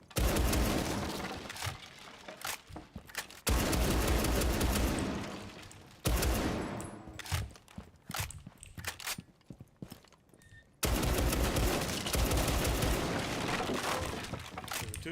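Gunfire in a video game sounds as dense, continuous bursts of rapid shots in several long stretches separated by abrupt cuts, with a quieter, sparser passage midway.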